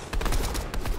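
Rapid, dense gunfire from a video game shootout, a loud burst of overlapping shots lasting about a second.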